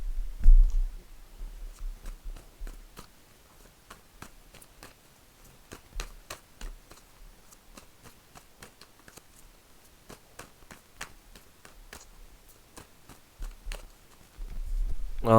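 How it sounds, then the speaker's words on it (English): Tarot cards shuffled by hand, giving a steady run of crisp, close clicks and flutters for about fifteen seconds, with a few louder thumps near the start and end. "I'm going to give your cards a shuffle"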